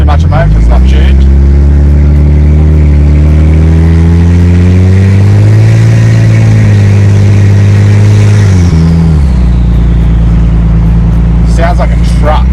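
A Ford XR6 with a turbocharged Barra engine, not yet tuned, revs loudly and close by: the deep, rumbling idle climbs through a couple of throttle blips, then falls back to a steady, burbling idle.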